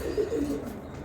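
Carrier pigeons in a breeding loft coo softly and close by, a few low, repeated rolling coos in under a second, with no talking.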